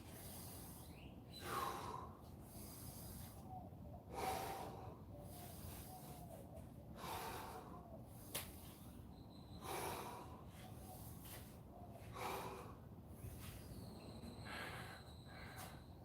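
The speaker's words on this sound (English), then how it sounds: "Breathing deep. Big inhales and exhales." Deep, heavy breathing during an at-home workout, with big inhales and exhales repeating every couple of seconds. The breaths are close and even, with no talking.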